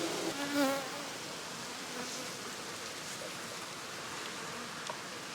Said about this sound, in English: These bees are scenting.